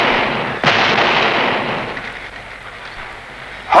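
Shotgun blasts in a police drama scene, a loud sharp report followed by a long rumbling decay, then a second abrupt blast at the end.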